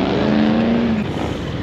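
A Ferrari passes close by at a cars and coffee meet, a loud engine tone holding briefly then dropping as it moves on, with steady crowd and traffic noise behind.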